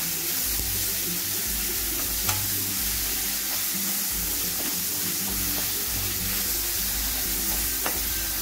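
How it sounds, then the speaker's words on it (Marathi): Onions mixed with kharda are sautéed in hot oil in a pan for batata vada, giving a steady, close sizzle broken by occasional scraping stirs. "खरडा कांद्यात मिक्स करायचा आणि नंतर परतून घ्यायचा चांगला"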